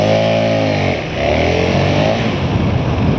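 A big motorcycle revving hard on a fast takeoff that lifts into a power wheelie: the engine note climbs sharply, dips briefly as the gear shifts, then surges again, loud and close.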